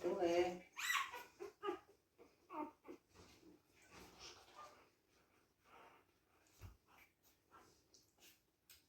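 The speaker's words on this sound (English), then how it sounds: "The puppies suckle in 2 groups, but otherwise they will go to their mother together." Newborn puppies suckle from their mother, with close, faint squeaks, whimpers and snuffling breaths in irregular bursts and soft pauses between them.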